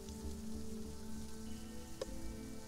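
Rain falls in the survival video game Sheltered as a soft, steady patter on surfaces, heard under a layer of sustained background tones, with one brief sharp click near the end.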